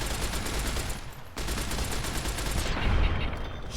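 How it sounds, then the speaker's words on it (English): Submachine gun firing in a video game, a dense, loud, unbroken burst of rapid automatic shots with a momentary gap partway through, with no talk. "Items, weapons, submachine gun, activate."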